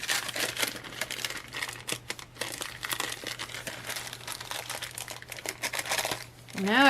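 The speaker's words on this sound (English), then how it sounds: "Now I can't get it off the wax paper." Wax paper crinkles and crackles in continuous close bursts as dried craft material is peeled off it at a planning desk, with someone speaking briefly at the end.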